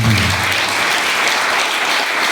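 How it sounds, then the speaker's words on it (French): A church congregation breaks into sustained applause for a visiting brother during a worship celebration, dense steady clapping filling the room, with a few brief voices near the start. "Est-ce que l'église va applaudir Frère Ricardo pour nous maintenant?"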